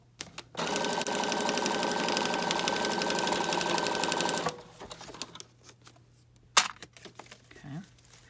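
A sewing machine stitches through a paper pamphlet booklet with a fabric signature and magazine page, running steadily for about four seconds before stopping, followed by faint handling rustles.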